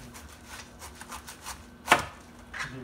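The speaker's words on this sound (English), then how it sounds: "this is how I cut the cabbage" Knife slicing through a cabbage on a cutting board, a series of soft crunching cuts with one sharper, louder chop near the end, close and alone.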